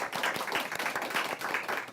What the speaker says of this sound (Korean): 우리 김태훈 원장님 위해서 박수 한번 부탁드리겠습니다